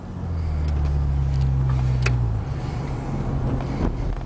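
An Acura RL fitted with a Remus catback muffler and aftermarket intake drives along, its deep low exhaust drone holding steady and then easing off partway through, with road and wind noise underneath.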